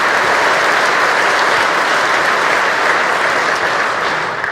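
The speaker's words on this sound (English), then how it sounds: "that's worth a round of applause." A large audience applauds steadily through a State of the State address by the Kansas governor in 2018, the clapping loud, dense and sustained from start to finish with no talk over it.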